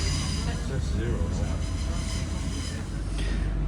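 A Northern train pulls away from Deansgate station in Manchester, a steady low rumble and hum of rolling stock heard from on board, continuous and fairly loud throughout.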